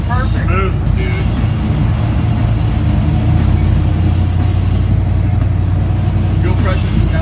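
A hot rod engine running smoothly, a steady low rumble that continues throughout while people talk loudly over it.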